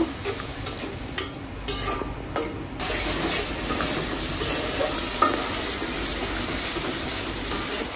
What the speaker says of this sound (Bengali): কিছু দেওয়ার পরে এখন একটু নাড়াচাড়া করে একটু ভালো করে কষাই নিব।